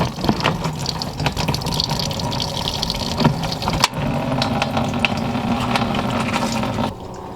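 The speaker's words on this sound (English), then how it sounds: "while we have the coolant draining" Coolant drains steadily out of a Toyota 2JZ engine's radiator, a continuous splashing, trickling pour close by that runs almost unbroken for several seconds before easing slightly near the end.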